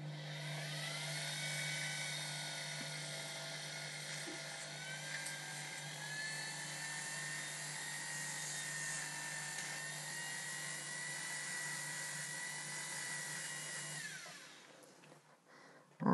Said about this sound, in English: So we've buffed off the patina.